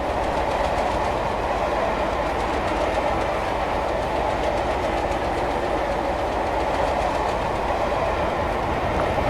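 A Class 37 diesel locomotive runs in a Roblox railway game, with a steady, loud engine drone and a continuous rumble with rhythmic clickety-clack of wheels over the rails, and no talk.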